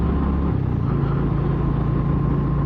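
A Royal Enfield Classic 350 motorcycle riding along a back road in Kentucky, a steady low engine thrum with a rumbling exhaust and continuous wind rush, holding an even pace throughout without talking.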